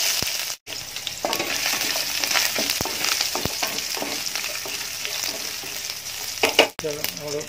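Garam masala and chopped ginger fry in a hot pan for a Kuska biryani, a steady close crackling sizzle with stirring scrapes throughout and a brief break near the start.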